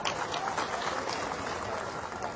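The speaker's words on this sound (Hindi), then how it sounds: "ताली बजाओ इसमें" A rally crowd at a political party gathering claps together, a dense wash of applause from many hands with a few louder bursts, steady and fairly close for a couple of seconds.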